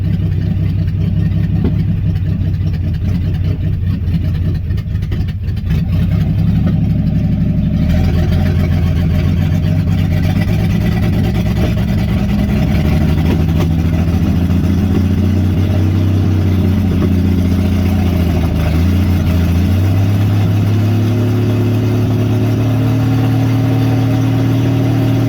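A Jeep J10 engine idles with the choke pulled, a steady rough low rumble that starts harsh and noisy, then settles into a smoother, even idle after several seconds, close and loud throughout.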